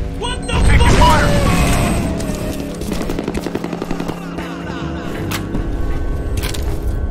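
Combat in the video game FEAR: a loud boom opens the clip, followed by bursts of rapid automatic gunfire and mechanical clatter, with voices talking amid the fighting.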